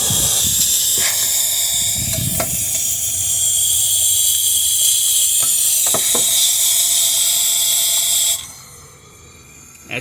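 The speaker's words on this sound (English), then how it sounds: "Excellent steam," Steam wand of a refurbished Delonghi Magnifica XS espresso machine hissing loudly and steadily with a few faint clicks and knocks, then cutting off sharply near the end.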